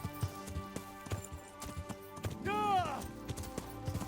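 Horse galloping in the medieval game Kingdom Come: Deliverance, rapid rhythmic hoofbeats that are clear and close, with a whinny partway through.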